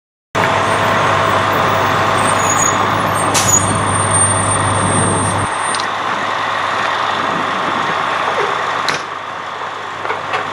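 A fire engine reverses to lay hose lines: a loud, steady truck engine rumble with a high reversing tone and brief air-brake hisses. The low drone cuts off partway through and is followed by quieter idling.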